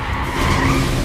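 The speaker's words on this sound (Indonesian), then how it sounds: "Bahkan mobil Juno pun berhasil ditembak berhenti sehingga mereka kehilangan jejak Gi-hun" A car that has just been shot at skids to a halt with loud, sustained tire squeal and engine noise, lasting about a second with no voices.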